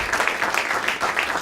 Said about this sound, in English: If we can give a round of applause to our panelists,